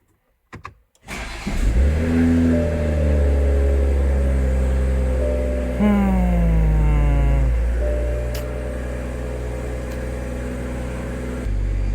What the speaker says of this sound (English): So we're gonna have to start the car.